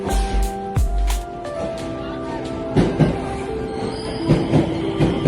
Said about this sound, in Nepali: यहाँ ट्रेन पनि मस्त कुद्दैछ